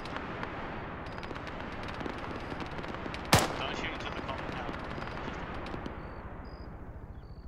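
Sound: friendly soldiers shooting in video game Arma 3

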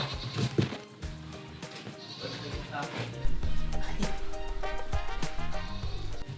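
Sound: native pigs squealing

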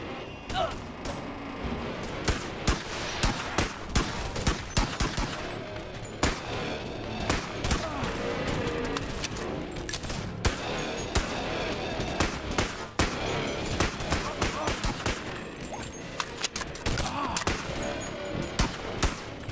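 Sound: handgun shots in Boneworks video game

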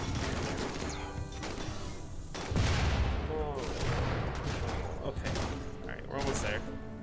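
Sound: explosions from doomsday rocket launchers in video game Rimworld

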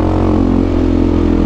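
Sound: enduro motorcycle engine with KTM sport exhaust

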